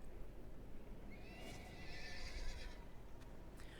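Horse mount in a fantasy video game giving a single drawn-out whinny that rises and falls, moderately loud over steady background noise, with faint hoof clatter.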